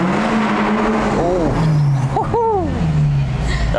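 A Maserati GranTurismo S 4.7 MC engine and exhaust while driving, recorded from a phone held out the window, give a steady loud drone with rising and falling tones as people talk over it.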